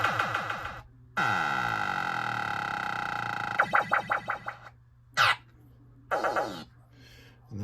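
Williams Cosmic Gunfight System 7 pinball sound board under test, firing a series of synthesized electronic effects: a long sweeping tone, a run of rapid pulsing blips, then short bursts separated by silent gaps.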